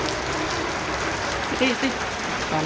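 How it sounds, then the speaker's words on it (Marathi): Rain falls in a steady, even hiss, with faint voices briefly audible beneath it. "तिथं बस पाऊस चालू आहे"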